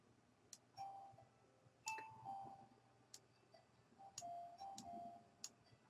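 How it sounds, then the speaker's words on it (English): Phone alarm set as a reminder to pick up dinner, giving a repeated series of short ringing chime tones at irregular intervals over a quiet room, moderately faint with no talk. "And that's my alarm for picking up dinner, so let me go shut off that."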